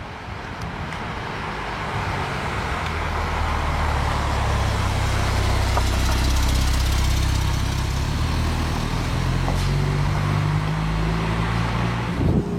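A Porsche Turbo S engine on the street in Paris, a steady low rumble that builds and holds for several seconds amid traffic, loud and close with no talking.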